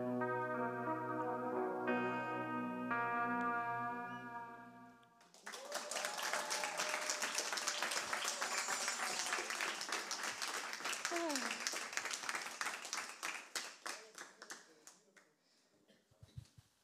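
Audience applause after a heartfelt spoken performance, a dense wash of clapping that starts abruptly after a soft sustained musical passage, holds steady for several seconds, then thins into scattered claps and fades.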